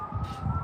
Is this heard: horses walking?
no